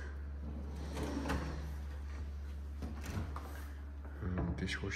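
A waste bin drawer in a marble kitchen island slides open with soft clunks and rattles over a steady low hum, followed by a brief scraping sound near the end.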